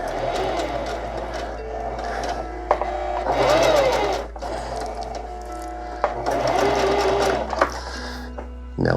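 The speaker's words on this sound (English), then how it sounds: "Now we'll just sew it all the way down." A sewing machine stitches hammock fabric in several loud, steady runs, stopping and starting with brief pauses and small clicks between bursts, heard close up.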